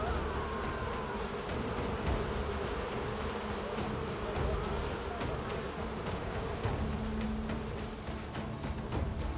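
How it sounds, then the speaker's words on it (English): Dense, steady insect buzzing fills the scene in the video game Crimson Desert, a swarm of bees droning continuously at close range with a low, even hum and no voices. "Not the bees!"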